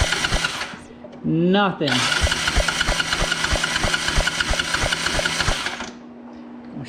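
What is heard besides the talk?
cranking an old engine to check for spark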